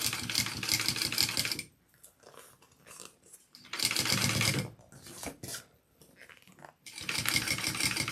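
A sewing machine stitches a handbag seam with a bow accent tail, running in three bursts of steady mechanical whirring separated by short pauses with faint handling noises.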